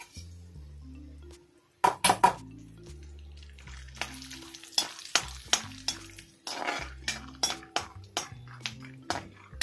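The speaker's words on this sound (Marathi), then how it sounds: "शेंगदाणे छान भाजून घेऊया त्यामध्ये." Peanuts roasting in a metal pan for pohe chiwda: a spoon scrapes and clinks against the pan in a steady stirring rhythm while the nuts rattle, close and crisp over a faint low background tone.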